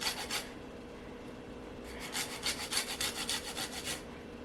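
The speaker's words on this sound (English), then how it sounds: "I'm really trying not to grate my fingers while I'm zesting this lime right now." A lime is zested on a grater: quiet, close rasping strokes, a short burst at first, then a quick rhythmic run of scrapes.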